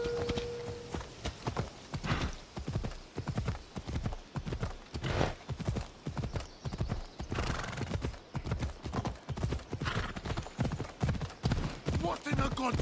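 Hooves clip-clop in a steady rapid rhythm as a horse gallops in Assassin's Creed, with an occasional whinny, close and continuous throughout, with a voice speaking over the ride.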